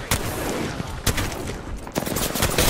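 Rapid video game gunfire in an Apex Legends-style battle royale match, with dense overlapping bursts crackling continuously across the whole stretch, loud and close with sharper spikes near the start, middle and end.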